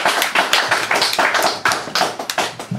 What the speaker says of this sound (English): So more applause please for P.R.